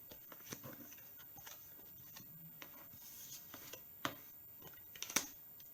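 Tarot cards drawn and handled on a table, soft papery slides and light taps, a few sharper card snaps near the end, quiet and close with no voice.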